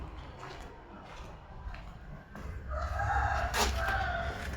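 Rooster crowing at a heritage hotel in Karaikudi, a moderately distant cock-a-doodle-doo rising near the end over low background rumble and faint murmuring voices.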